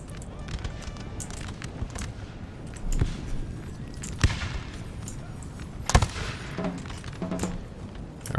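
Massed musket fire in a Napoleon: Total War battle, with scattered sharp cracks and volleys over a steady rumble of battlefield noise at moderate distance.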